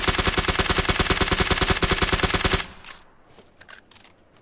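Rapid, loud automatic gunfire sprayed into bushes in PUBG bursts for about two and a half seconds, then stops, leaving quieter game sounds and a few faint clicks.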